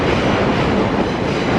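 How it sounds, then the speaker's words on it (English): A New York subway train rolls past with a loud, steady roar and rumble that fills the whole moment, drowning out everything else. "there's like a subway or a train or something"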